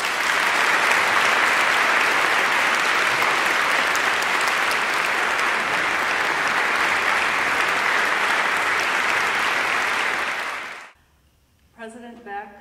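Loud, steady audience applause welcoming a speaker at a college honors convocation, continuous for about ten seconds before fading into a brief spoken voice.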